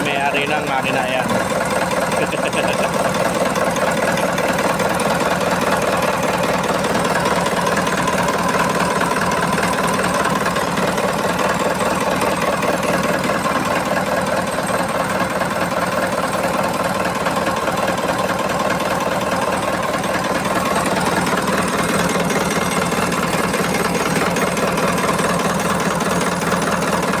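An overhauled BC2 engine idling after assembly, a steady mid-pitched running hum with a faint regular knock sustained throughout, close and even in level, with someone talking over it.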